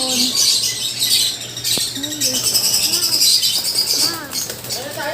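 Lovebirds chirp and squawk in short bursts amid a busy, noisy bird market background with some flapping, while people talk nearby.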